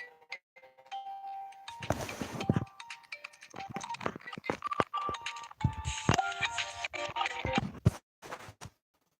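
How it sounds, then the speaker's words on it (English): A phone rings with an incoming call, bright repeated chime tones and electronic beeps sounding in short bursts, fairly close and clear in an otherwise quiet room. "Someone's ringing me up."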